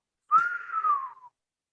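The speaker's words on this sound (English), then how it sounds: "Jack just has a poker face and whistles" A single person whistles one sustained, slightly wavering note that slides gently downward and fades out after about a second.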